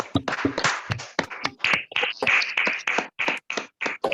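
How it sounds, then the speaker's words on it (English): A small audience at a Toastmasters club meeting in Bangalore claps after a speech, with a few nearby people producing irregular, crisp claps and short gaps in between. "Please give them a big round of applause."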